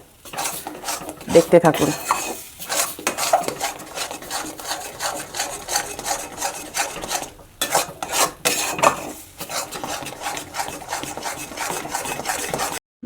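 Green pea filling for kochuri being stirred and scraped in a pan to dry it out, giving repeated rasping scrapes in irregular bursts with brief pauses, close by, and a voice speaking briefly.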